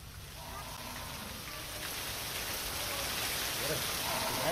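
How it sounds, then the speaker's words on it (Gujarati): Heavy monsoon rain pours down in Dayapar Khanai, Lakhpat, Kutch: a dense, steady hiss of falling water that builds slightly louder over a few seconds, with no voices. "લખપતના દયાપર ખાનાઈમાં વરસ્યો છે વરસાદ."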